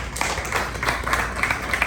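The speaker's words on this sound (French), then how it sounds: "Et je vous demande de les applaudir." A short stretch of audience clapping at an event at Hotel Karibe in Haiti, soft and uneven with a few distinct claps standing out.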